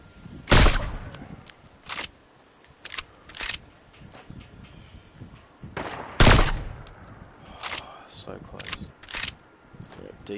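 Gunfire in a Fortnite match: loud bursts of shots in irregular clusters, some sharp single cracks and rapid volleys, with mechanical clatter between and voices talking faintly in the background.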